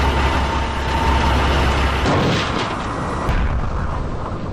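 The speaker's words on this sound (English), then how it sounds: "Captain Melissa Patterson has accidentally crashed the ship into the end of the universe." Sound effect of a spaceship crashing into the end of the universe: a loud, sustained rumbling roar with a heavy crash midway, after which the rough, booming noise carries on unbroken.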